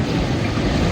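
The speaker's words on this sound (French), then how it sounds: "avec le bruit des vagues" Sea waves wash and break along the shore in a steady, close roar mixed with wind buffeting the microphone, with no voices present.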